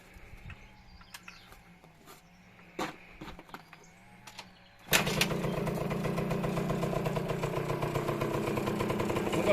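Yamaha DT 50 enduro moped from the 1980s, revived after 15 years unused: the two-stroke engine catches abruptly after a few faint clicks and settles into a steady, close, buzzing idle.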